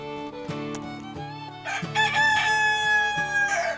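A rooster crows loudly nearby, a long drawn-out call with a few clucks and farmyard sounds before it, no voices.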